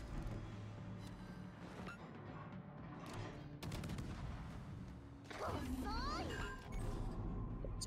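Game gunfire in a ranked multiplayer shooter match, a dense run of close shots and bursts with explosive impacts, continuous and loud under background game noise and some voice chatter.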